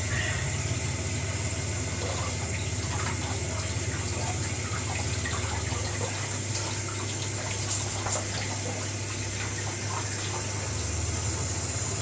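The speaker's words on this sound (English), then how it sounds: "don't forget to wash your mushrooms because you can get bits on at the supermarket like that. So I'll just wash these." Tap water runs in a constant stream over mushrooms being washed, a loud, even rushing splash with a low hum underneath and faint handling noises, no speech.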